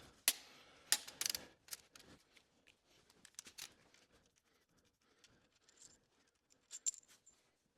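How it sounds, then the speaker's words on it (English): A torque wrench ratchets backwards to loosen bolts during final assembly of a rebuilt Cummins 4B engine for a Case 1840 restoration, giving quick, close clicking and mechanical rattles in short bursts, loudest at the start and fading to sparser ticks, with no talk. "Yes, I know you're not supposed to use your torque wrench backwards."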